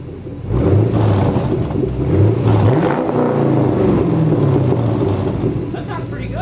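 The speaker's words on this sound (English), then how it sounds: "Give her a rev, Mike." A Chevrolet Camaro fitted with new mufflers revs up close and loud, its deep exhaust rumble swelling and falling across repeated throttle blips, with a brief voice near the end.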